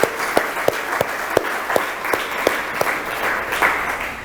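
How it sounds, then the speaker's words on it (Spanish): A church congregation claps in praise during a Spanish-language sermon, a loud bed of applause punctuated by sharp, evenly spaced single claps standing out close by. "Dele un aplauso al Señor"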